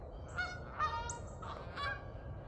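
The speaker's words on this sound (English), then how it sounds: "we have a cacophony of geese" Several geese honk in short, repeated calls a little way off on a riverbank, overlapping at times, over quiet outdoor background noise.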